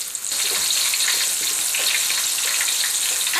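Steady, dense sizzling of food frying in hot oil in a pan, close and continuous with faint crackles and no voices.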